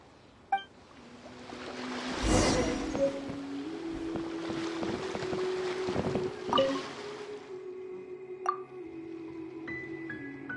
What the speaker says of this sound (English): Time to set sail!